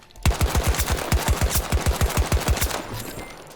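VCAR rifle with a shortened barrel and close combat rounds in Battlefield 2042, firing a rapid burst of about fourteen loud, evenly spaced shots in steady rhythm before tapering off, with no voices.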